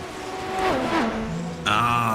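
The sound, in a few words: race car revving, iRacing video game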